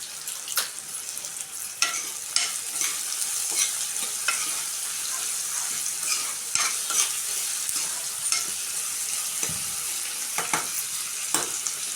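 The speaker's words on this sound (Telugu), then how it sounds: "ఉల్లిపాయలు గమ్మును మగ్గడానికి అయితే కొంచెం సాల్ట్ అయితే వేసుకుంటున్నాను" Salted onions fry in a pan while being stirred, a steady moderate sizzle punctuated by repeated spatula scrapes and taps at irregular intervals.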